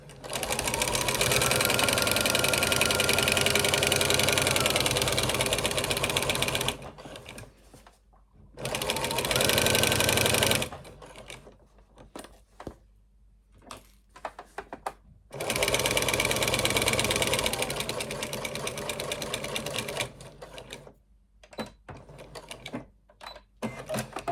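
A sewing machine fitted with a walking foot stitches a long seam on a zipped project bag, running in loud sustained whirring bursts separated by short pauses and quieter stretches, close up with no talking.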